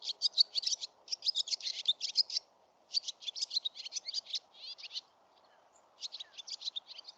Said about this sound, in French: je vais vous faire écouter son cri et vous verrez que c'est pas la même chose que l'hirondelle de fenêtre